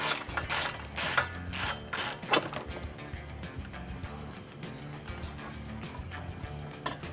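A ratchet driving a 12mm socket removes three fasteners holding the carbon canister on a 2018–2021 Mitsubishi Eclipse Cross during hitch installation: bursts of rapid close clicking, loudest early, then quieter intermittent ratcheting.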